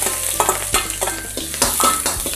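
Chopped scallion and ginger hit hot oil in a wok at low heat, giving a steady close sizzle broken by several sharp scraping stirs from a spatula, with no voices.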